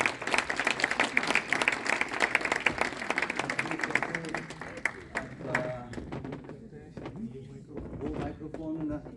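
An audience at a poetry book launch bursts into loud, dense applause that fades over several seconds into scattered claps. A speaking voice can be heard under the clapping.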